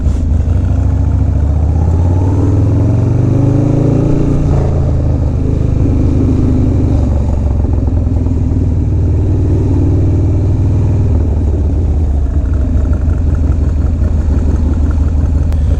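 A motorcycle engine drones steadily while riding on Brooklyn's BQE in cold night air, a loud, continuous low rumble with slight pitch swells as the throttle shifts, no talking over it.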